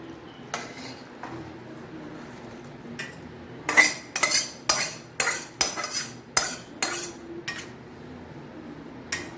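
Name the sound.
stirring rui fish in poppy seed paste in wok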